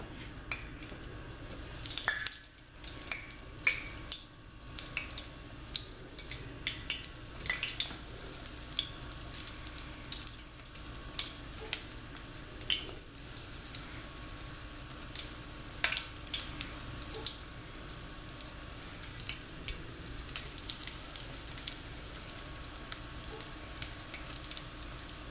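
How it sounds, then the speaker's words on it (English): Mozzarella sticks added a few at a time to hot oil, giving a steady crackling, hissing sizzle with scattered pops, fairly quiet and with no voices. "our oil is hot, so we're going to begin adding our mozzarella sticks"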